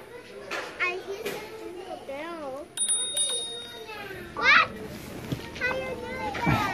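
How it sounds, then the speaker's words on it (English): Two or three quick rings of a bicycle bell, each a bright metallic ding, close by. Young children talk and squeal throughout, with an adult voice now and then. "That's a bell, Rose."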